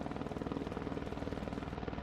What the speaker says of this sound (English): another helicopter drops more water on the fire